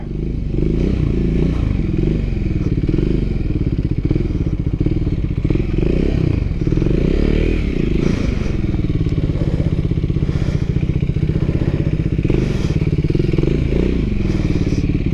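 A Triumph Scrambler 400 X motorcycle doing slow trials moves at full lock, its engine rumbling steadily and close up for the whole stretch, with clattering, scraping and thudding from the bike as it works over the ground.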